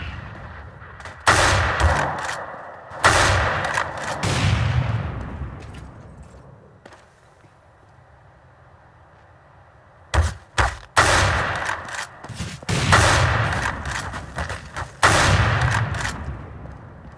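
Counter-Strike: Global Offensive gunfire on the Dust maps: loud bursts of automatic rifle fire in several clusters, separated by quieter stretches of ambient game sound.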